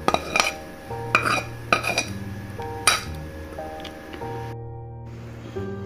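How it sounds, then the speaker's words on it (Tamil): Metal utensils clink and scrape against a pot while sautéed onion and tomato are mixed into wheat flour, a few sharp taps followed by softer stirring, with tonal music playing underneath. "இப்போ நம்ம வதக்கி வச்ச எல்லாத்தையும் எடுத்து மாவில் வந்து மிக்ஸ் பண்ணிக்கிறோம்."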